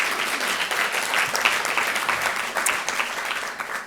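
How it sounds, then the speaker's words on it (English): Steady, dense clapping from a crowd at a charity luncheon, sustained and fairly loud throughout with no break. "So a round of applause for them,"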